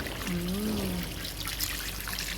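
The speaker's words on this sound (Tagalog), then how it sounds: "Para mas mapalambot natin, maglagay tayo ng tubig." Water poured into a pot of pork ribs estofado, a steady trickling pour that runs for a couple of seconds, with a brief faint voice over it.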